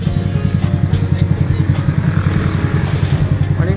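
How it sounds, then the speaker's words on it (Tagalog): A sports bike motorcycle idles nearby with a steady, loud, throbbing engine pulse at an outdoor McDonald's grand opening, with a faint voice in the background. "So yun, sports bike."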